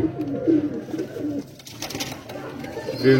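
A group of about seventeen or eighteen pure patti low-flyer pigeons coo in soft, repeated throaty phrases, close by, with a faint hint of background voices.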